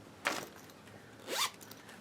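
A zipper runs along a freshly sewn fabric bag sample. There are two quick, close zips about a second apart, crisp and clear against near silence.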